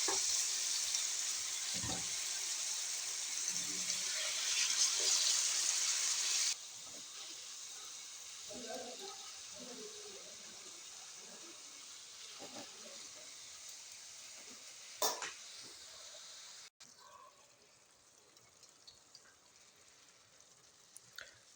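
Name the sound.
chicken frying in hot vegetable oil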